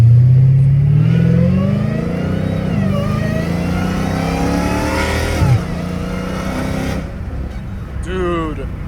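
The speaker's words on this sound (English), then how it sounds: "This car is like just ridiculously loud." A straight-piped Dodge Hellcat Redeye drives with a loud, steady engine drone that eases off mid-clip, then revs sharply near the end.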